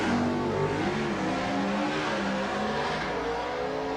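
A stock-bodied drag racing car with limited engine modifications and small rear slicks launches at the 1991 ANDRA Nationals, its engine roaring loud and steady as it accelerates away on a handicap start.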